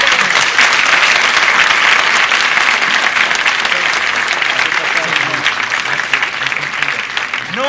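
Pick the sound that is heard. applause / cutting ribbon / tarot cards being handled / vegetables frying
applause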